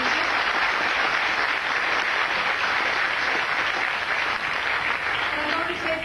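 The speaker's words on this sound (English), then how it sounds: "give an applause to the Yonkers High School Band that brings us the terrific music" An audience at a groundbreaking press conference gives a steady, uniform round of applause for the Yonkers High School Band, dense clapping holding at a constant level throughout.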